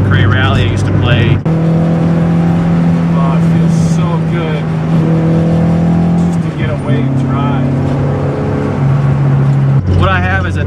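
A modified 1986 Volkswagen race car with full race suspension and a stripped interior drives with a loud, close engine drone. Its pitch holds steady and then drops and shifts with gear changes.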